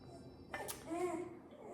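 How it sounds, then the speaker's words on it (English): A dog whines in a short high, wavering cry that rises and falls at moderate loudness in a quiet kitchen. "that's just my dog whining"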